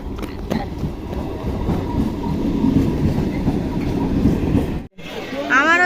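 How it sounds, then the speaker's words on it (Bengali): A train pulls into an Indian railway station with a steady, loud rumble of rolling wheels and carriages, broken by a brief cut, then continuing with high metallic squeals and nearby talk. "এই যে ট্রেন কিন্তু চলে আসছে"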